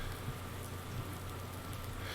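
Steady rainfall in the farming video game Farming Simulator 19, a continuous even hiss of rain on surfaces with a low background hum, no voices.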